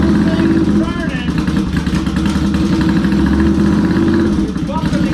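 A motorcycle-like engine runs steadily while someone applies throttle to free stuck clutches, giving a loud close mechanical drone with some clatter; a person talks over it throughout.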